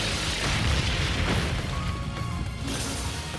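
Brionac weapon firing in Trails of Cold Steel III: a dense, loud, sustained roar of blasts and crashes that fills the whole moment without a break, with no voices.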